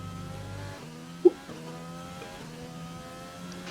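An F1 race car engine in the game F1 2020 on a qualifying flying lap at Bahrain whines loudly, climbing in pitch through repeated gear shifts, with a brief sharp click partway through.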